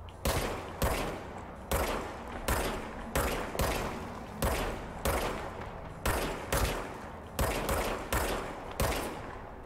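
A weapon in the Control video game fires in a steady string of heavy shots, about one or two per second, each with a sharp crack and a short echoing tail, with no talk.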